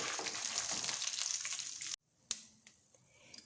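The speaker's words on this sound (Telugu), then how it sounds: "ఇందులో ఒక కప్పు మిరపకాయలు ఇది బాగా వేగాలి మాడిపోకుండా నీట్గా వేసుకోండి" Red chillies, a cupful tipped into a hot pan, fry with a steady close sizzle that stops abruptly, followed by a few sharp pops and crackles over quieter hiss.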